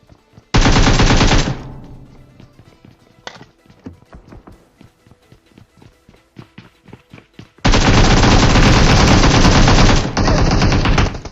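Gunfire in a shooting video game: two loud bursts of rapid automatic fire, one near the start and a longer one later, separated by quieter clicks, footsteps and scattered shots, with no talking.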